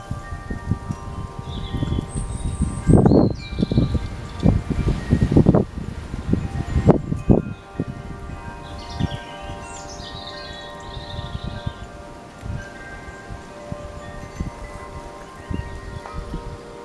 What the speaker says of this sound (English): A little bit windy.